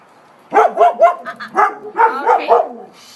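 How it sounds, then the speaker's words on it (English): Two dogs bark repeatedly at newly arrived people while held on leash, a close, loud burst of sharp overlapping barks and yips that runs for several seconds after a brief quiet start. "we just had some new people come up, and so they're barking"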